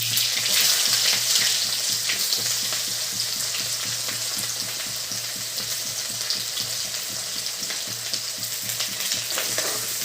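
Cumin seeds and chopped onion fry in hot oil in a pan, giving a steady, close, bright sizzle with crackling that runs throughout, joined by soft stirring scrapes.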